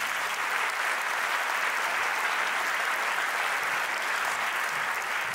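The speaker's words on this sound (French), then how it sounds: "Sous vos applaudissements s'il vous plaît." A conference audience at the opening plenary of the 2022 regional parks congress applauds as the mayor comes up to the stage, a full, even wash of clapping that holds at a steady level throughout, with no speech.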